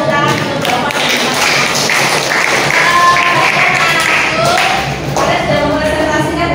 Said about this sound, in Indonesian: Oke, beri tepuk tangan untuk Bapak dan Ibu.